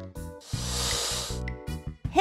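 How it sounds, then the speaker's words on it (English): A snake hisses once in a sustained, airy burst lasting about a second, framed by short tonal sounds before and after. "A snake makes a hiss sound."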